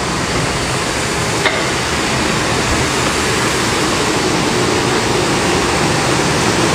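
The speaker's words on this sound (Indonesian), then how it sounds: "Jadi di bawah bangunan ini tuh ada aliran sungai yang gede." A large river flows beneath a building, giving a loud, steady broadband rush of water that holds constant throughout with no voices.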